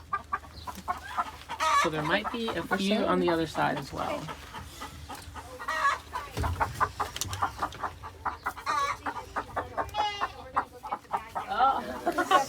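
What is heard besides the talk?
chickens clucking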